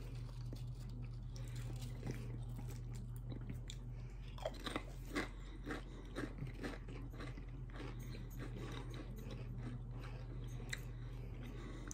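Pringles fried onion ring chips being eaten, with repeated close crisp bites and crunchy chewing over a steady low hum, and no talking.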